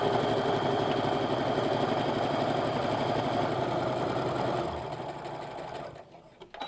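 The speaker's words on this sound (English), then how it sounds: "and we're just going to stitch down." A sewing machine runs steadily, stitching a seam along a half square triangle quilt piece, then slows and stops near the end, with a few faint clicks as it halts.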